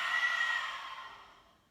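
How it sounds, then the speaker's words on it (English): A long, breathy exhale pushed out through the mouth during a yoga breathing exercise, close and fairly loud at first, then tapering off gradually to silence. "and a big exhale out the mouth"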